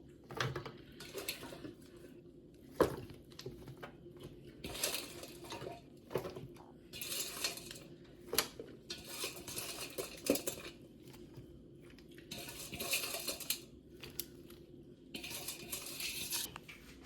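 Vegetables being stirred into sauce in a bowl while making coriander roasted chicken, heard as irregular clinks, scrapes and wet patter against the bowl, fairly close and moderately quiet, with no talking.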